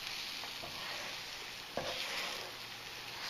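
Scrambled eggs cook in a pan with a soft, steady sizzle and a few faint scraping stirs, quiet and close.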